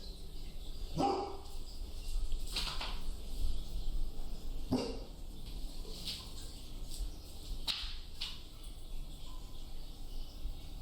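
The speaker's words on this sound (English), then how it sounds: "he jumps up and barks" A few sharp dog barks ring out at intervals, one near the start and others spread across the clip, over a steady background hum with insects chirring.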